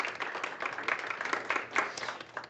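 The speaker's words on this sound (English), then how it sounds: "Let's give her a round of applause, everybody." Steady applause from an audience at a hope-themed gathering rolls on continuously for a few seconds, moderately loud with no talk over it.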